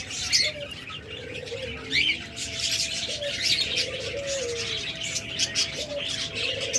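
Lovebirds chirp in a bird seller's collection, with repeated shrill high chirps arriving in bursts and lower cooing tones underneath, fairly close and lively.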